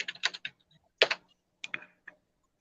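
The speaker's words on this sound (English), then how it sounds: "And ignore my typing." Fingers type on a computer keyboard in short bursts of quick, close clicks separated by brief pauses.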